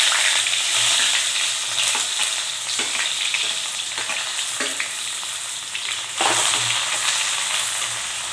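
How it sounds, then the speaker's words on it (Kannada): Onions hit hot oil for a restaurant-style pudina chicken, giving a continuous loud sizzle with intermittent stirring scrapes and small pops, swelling again near the end. "ಆಯಿಲ್ ಬಿಸಿಯಾಗಿದೆ. ಇವಾಗ ಏನು ಆನಿಯನ್ ಎತ್ತಿಟ್ಟಿದ್ನೋ ಆನಿಯನ್ ಹಾಕ್ತಿದ್ದೀನಿ."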